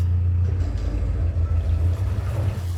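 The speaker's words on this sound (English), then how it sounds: "Engine is on." A canal boat's engine idles close by as a steady, heavy low rumble with a slight throb, running continuously with no voices over it.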